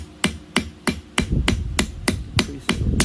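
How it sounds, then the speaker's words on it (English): Hammer blows land on a metal casting during repair of minor flaws, about ten sharp ringing strikes in a steady rhythm, close and loud with no talk. "But when you hammer it,"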